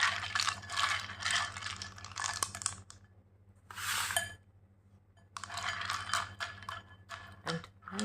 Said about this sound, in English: pour this mothballs over here.